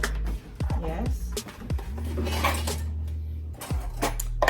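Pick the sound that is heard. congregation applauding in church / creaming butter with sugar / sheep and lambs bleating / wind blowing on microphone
creaming butter with sugar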